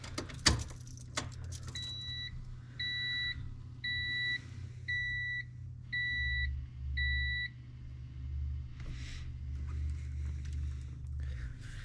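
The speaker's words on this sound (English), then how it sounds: "I'm gonna go ahead and put the key in, turn the power on, make sure it fires up like it's supposed to." A key turned to the on position in a Honda Civic with a nitrous stroker V6 swap brings a run of six evenly spaced electronic chimes, preceded by a brief key jingle, and the engine never fires.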